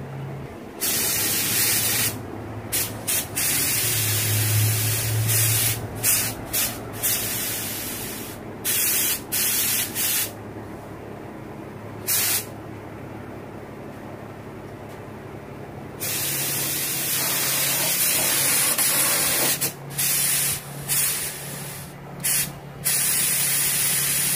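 A spray gun sprays primer onto a car's front bumper, hissing loudly in long bursts with brief pauses between them, a steady broadband rush close by, a low hum underneath.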